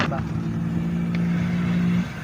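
A child rides a small motorcycle nearby, its engine droning in a steady low hum that cuts off near the end, while people talk over it.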